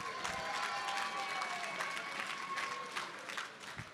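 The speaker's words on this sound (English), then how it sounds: "Big round of applause" Applause from the audience at the annual Heartland Premiere, a dense, steady wash of clapping with some crowd noise, fairly loud and continuous throughout.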